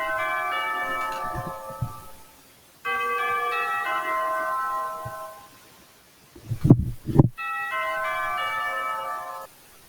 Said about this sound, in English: I just got scared the crap out of by some alarm bell